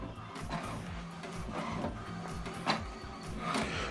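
A home printer runs an alignment page after a print job sent from a phone, giving steady mechanical whirring with repeated rhythmic carriage and feed pulses and a brief louder clack near the end, fairly close and continuous.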